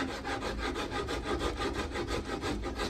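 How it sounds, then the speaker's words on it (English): A small rasp carves a wooden guitar neck, its rapid back-and-forth strokes forming a steady, close, continuous rhythmic scraping with no one talking. "I use a smaller rasp, okay, so I can get in."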